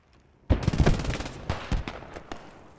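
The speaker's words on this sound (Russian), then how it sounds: "Выстрелы с той стороны идут." A close burst of rapid gunshots in the video game Post Scriptum rattles out after a quiet start, then scattered single shots trail off.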